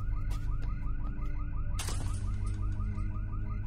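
A car alarm wails in a repeating electronic whoop cycle, loud and close, with a brief sharp burst of noise partway through and no speech.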